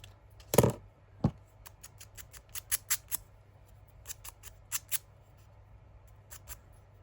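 Scissors snipping apart a paper stamp from craft scraps, starting with one loud close cut followed by a quick run of lighter, crisp snips spaced irregularly, with no talking.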